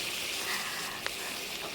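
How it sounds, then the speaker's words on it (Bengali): Pieces of fish coated in salt and turmeric fry in hot oil, giving a steady close hiss and sizzle with a faint crackle and a single sharp pop, and no one speaking. "তো দেখো এইভাবে আমি সম্পূর্ণ মাছগুলো ভেজে নেব।"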